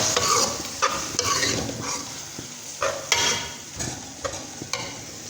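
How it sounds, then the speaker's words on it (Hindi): Tomatoes sizzle in a hot pan for daal keema while a spoon stirs them in brisk strokes, a close, fairly loud frying hiss punctuated by repeated scraping bursts. "पहले टमाटर हम डालेंगे। तो दोस्तों मैंने टमाटर डाल दिया।"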